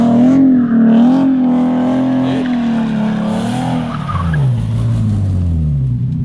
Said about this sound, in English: I tried to do a burnout